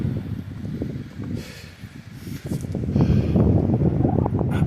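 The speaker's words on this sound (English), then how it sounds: "it's gonna start getting windy" Steady wind buffets the microphone on an exposed, treeless mountain trail in Rocky Mountain National Park, a low rumbling roar that grows stronger and more continuous toward the end, with no one speaking.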